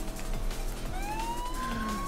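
A police car siren in the racing game Forza Horizon 3 wails with a rising, sweeping tone over a steady engine drone. It stays loud and close the whole time.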